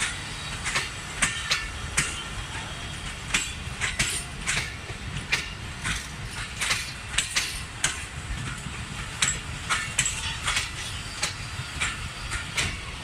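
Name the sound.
train at Bahawalpur railway station, Pakistan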